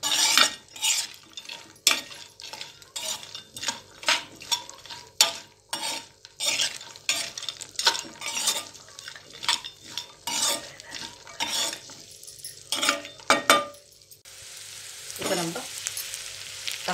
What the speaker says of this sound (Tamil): தக்காளியும் கூட சேர்த்து நல்லா வதக்கிக்கலாம்